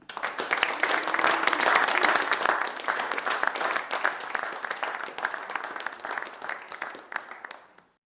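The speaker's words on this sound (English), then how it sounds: "Please join me in thanking Lynn for her remarkable service with another round of applause." Audience at a credit union annual meeting giving a sustained round of applause, strongest early and then gradually tapering off before ending in silence.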